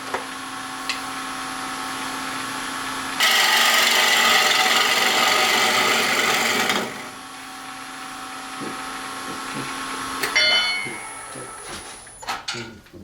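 Wood bowl turning on a lathe with a Carter and Sons 5/8 inch bowl gouge: a steady hum, then a loud rough shearing scrape for a few seconds, fading back to the motor with lighter scraping and knocks.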